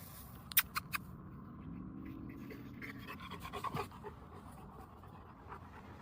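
A trained dog pants steadily and rapidly at close range, with a few sharp clicks or taps near the start and quiet background rustling throughout; no speech.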